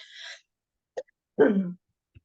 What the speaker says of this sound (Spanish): Empezamos con la tosecita, qué divino.